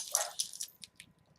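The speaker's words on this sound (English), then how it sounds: "That is Mocha barking in the background." A dog barks from another room, giving a few short, muffled yips and barks in quick succession that fade toward the end, fairly faint and distant.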